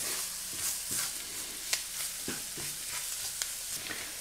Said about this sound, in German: Und nach kurzer Zeit gebe ich 25 Gramm Mehl dazu und schwitze das auch ein paar Minuten an.